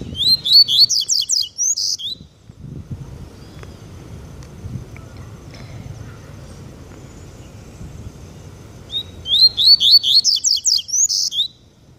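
A double-collared seedeater sings in two bright bursts of rapid, repeated chirps at the start and end, with a low background rumble of outdoor activity in between.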